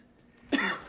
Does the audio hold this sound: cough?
yes